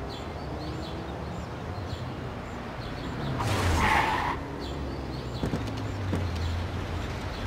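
A car crash in the game Mafia: a skidding screech and a brief loud impact burst around mid-clip over a steady background hum, followed by a few sharp clicks and a low rumble.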